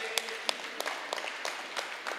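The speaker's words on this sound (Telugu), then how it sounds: "గట్టిగా క్లాప్స్ కొడదాం" A modest crowd claps for the masters at a PMC Events rally gathering in Dhone, with scattered, uneven hand claps and a few sharper individual slaps standing out over soft background noise.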